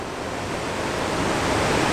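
A waterfall below rocks along a river where kayaks travel, heard as a steady, dense broadband rush that slowly grows louder, with no voices.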